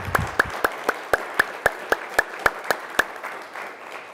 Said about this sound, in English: share with me a rousing round of applause for Tom Gold